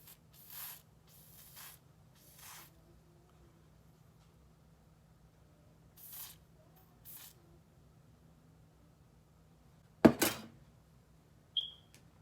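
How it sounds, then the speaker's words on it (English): Several short bursts of freezing hair spray hit wig lace, spaced a few seconds apart and faint at first, then one louder, closer blast near the end, with a steady low hum underneath. "Now we're gonna take some of the freezing spray."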